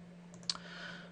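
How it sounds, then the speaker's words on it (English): A single sharp computer mouse click, close and crisp, with a faint second tick just after it over a low steady hum. "Click save."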